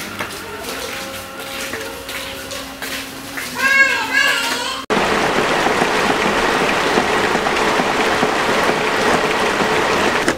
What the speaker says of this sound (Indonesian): Nah, itu udah hujan.